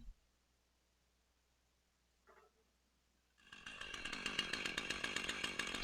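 A chainsaw fitted with a homemade PVC cut-length attachment on its bar: near silence with one brief soft noise, then the saw starts and runs loud and close with a rough, pulsing engine buzz.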